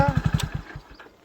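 A motorcycle engine shutting off: a short run of rapid, loud low thumps slows and fades over about a second, then falls quiet, with no talking.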